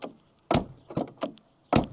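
The doors of a BMW E39 530d car are worked, giving four solid thumps and clunks spaced unevenly over about two seconds, close and fairly loud.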